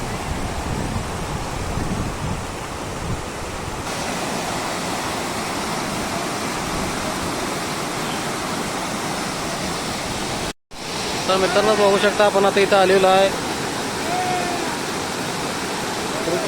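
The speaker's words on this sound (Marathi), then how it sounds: "छोटासा धबधबा आहे थोडं काय मोठा नाही आहे" Steady rushing water from the small Basari waterfall near Hatkanangale, Kolhapur, running at low flow, fills the whole clip, a continuous broadband wash like a small cascade, with people talking over it and a brief cut near the end.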